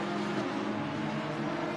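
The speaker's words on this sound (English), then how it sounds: "It's just an aggressive exhaust note" A race car's aggressive exhaust note in Assetto Corsa Competizione at the Hungaroring: a dense, continuous buzzing engine roar at steady loudness, with no voices.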